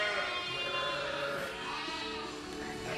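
Ewes on a sheep farm bleat in a loud, sustained chorus of overlapping wavering cries, close and continuous throughout.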